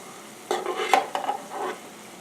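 Funnel cake fries frying in hot oil as they are flipped over: a steady sizzle with a few short bursts of bubbling and scraping, fairly close, with no talking.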